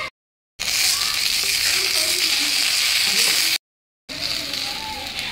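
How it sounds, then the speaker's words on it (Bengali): Okra sizzles steadily in hot oil seasoned with turmeric and salt, a dense close frying hiss that cuts out twice for brief silent gaps. "দিয়ে দিলাম ঢেঁড়শগুলো, একটু হলদি গুঁড়ো দিয়ে দিলাম"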